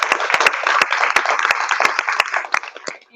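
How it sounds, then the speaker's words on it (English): A crowd at an educator-of-the-year awards event applauds the nomination committee, with sharp individual claps standing out above a dense, rolling wash of hands that thins and fades near the end. "So let's give the nomination committee a round of applause."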